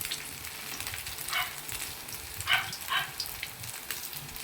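Food frying in a pan with pieces packed five at a time and browning dark: a steady close sizzle with sharper crackling bursts popping up now and then, and no talking.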